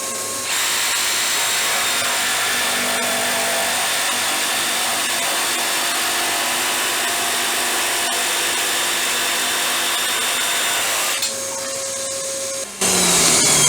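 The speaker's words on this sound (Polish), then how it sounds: "Włączamy odkurzacz i jeszcze raz lecimy." A Stanley vacuum cleaner, used as dust extraction while testing a cordless jigsaw, runs with a steady loud whine that holds for about eleven seconds and then drops away.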